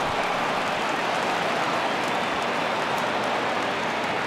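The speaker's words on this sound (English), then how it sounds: "It's raining cats and dogs out there." Steady rain falls in a baseball video game, a dense continuous hiss of drops with no breaks, moderately quiet and unchanging throughout.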